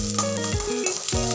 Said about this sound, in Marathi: ह्याच्यात घालत आहे आता थोडासा आपला कांदा। तर तो छान लालसर होईपर्यंत परतवायचा आहे आपल्याला।